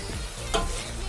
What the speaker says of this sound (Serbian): Evo, slatka paprika kada se prži,